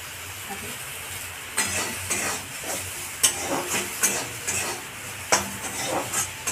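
Black cumin (nigella) seeds fry in a pan with salt, giving a soft sizzle under irregular scrapes and clinks of a utensil against the metal.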